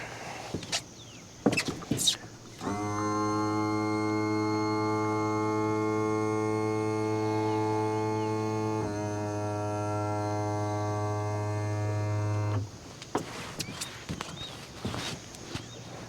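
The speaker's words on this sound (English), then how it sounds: "so I'm going to have to raise my motor" A boat's outboard motor is raised by its electric tilt, giving a steady, loud mechanical hum that holds for about ten seconds, shifts pitch slightly midway, then stops, with clunks and knocks before and after.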